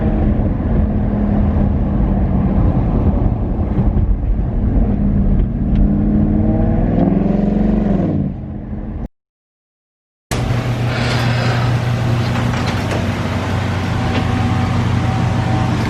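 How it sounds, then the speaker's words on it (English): A cheap salvage exotic car bought from Copart revs loudly up close, its engine note climbing in rising sweeps before cutting out briefly, then returning to a heavy, sustained roar. "Give me a decent rev."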